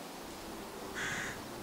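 A single crow caws once in the dark woods of the Bathgate Hills near Beecraigs, a brief call standing out over a steady hiss of outdoor ambience.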